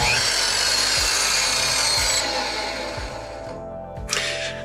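A repaired saw with no guard cuts wood for kombucha boxes, giving a steady loud grinding buzz with regular thumps about once a second, then dropping away before a short final burst.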